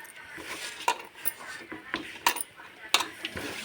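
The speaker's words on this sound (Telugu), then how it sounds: "ఇట్లా బాగా బాగా కలపాలండి. బాగా కలిపితే మీకు చెమ్మ లేకుండా పిండి బాగా వస్తుంది." Bottle gourd vada batter worked by hand in a bowl, giving soft squelching and mixing sounds with scattered sharper clinks of a utensil or bowl against the rim, close and fairly quiet, with a voice speaking intermittently.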